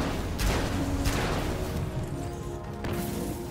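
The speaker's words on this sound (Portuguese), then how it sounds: "Uma granada de fogo." Fire grenade blasts in Destiny 2, several sharp crashing bursts in quick succession followed by a crackling fiery rumble, loud and close.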